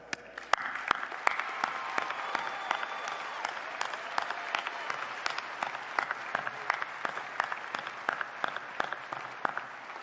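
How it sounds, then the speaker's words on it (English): At a spring university commencement, a sparse audience claps for graduates, individual hand claps ringing out distinctly and unevenly over a quiet, roomy background for about ten seconds. "please join me in a round of applause for all our graduates"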